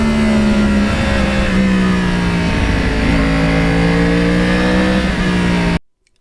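A Yamaha R1 crossplane motorcycle engine revving loudly and close, its gruff tone rising and falling in pitch for several seconds before cutting off abruptly into silence.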